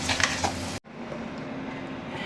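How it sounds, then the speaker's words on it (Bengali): Onions frying in oil in a pan for biryani, a steady close sizzle that breaks off sharply for an instant and then carries on at a softer, even hiss. "আমি পেঁয়াজগুলো ভাজি করে নিচ্ছি"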